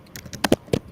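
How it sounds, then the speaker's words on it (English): A brief patter of keyboard typing, a few quick clicking keystrokes close by and moderately loud, with no talking. "I can hear some clapping on the keyboard."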